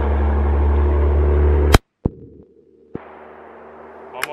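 A single loud, sharp rifle shot firing a 275 grain Black Butterfly loaded Tomahawk round, followed by abrupt quiet with a couple of faint clicks and a soft rustle.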